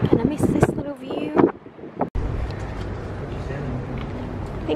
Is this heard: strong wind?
yes